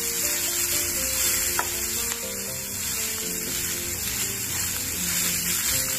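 Grated coconut stirred with cashews in a pan over a low flame, giving a steady close sizzle and frying hiss with soft scraping from the stirring, continuous throughout with no talking.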